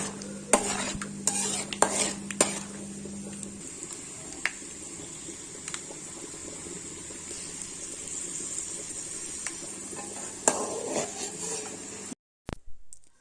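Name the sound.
stirring peanuts frying in peanut oil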